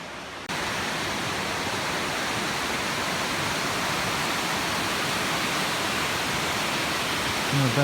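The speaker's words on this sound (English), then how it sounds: "I don't know if I've ever actually seen a lot of these waterfalls running before" A waterfall in Clifton Gorge, Southwest Ohio, roars steadily and evenly, a constant rushing wash of falling water that starts abruptly and holds at a strong level.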